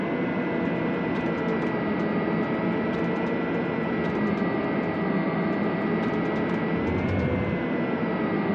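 A Boeing 777-300 in Real Flight Simulator on takeoff, its jet engines giving a loud, steady roar with a high whine layered on top, building continuously with no pauses and no voices.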